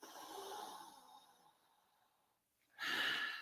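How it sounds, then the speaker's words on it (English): A person inhales slowly and deeply through the nose, breathing in an essential oil scent, then pauses and lets out a loud, breathy exhale, close and alone. "So this is one of my essential oils I'm just breathing in to help calm my brain down a bit."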